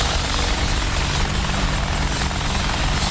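AH-64 Apache helicopter in the DCS flight simulator, its rotor spinning up on its own after landing, a loud steady whirring drone with turbine whine that holds constant throughout, no voices.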